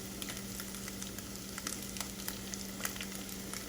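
Bacon pieces crushed and sizzling in a pot for fried rice, a steady, faint crackling fry with scattered small pops and a low background hum, no voices.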